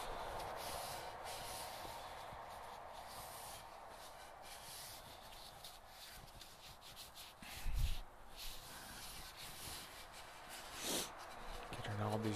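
Finish being rubbed into the wooden handle of a Husqvarna carpenter's axe, a steady soft scrubbing and sanding-like friction that runs throughout at low level, with a couple of brief louder bumps.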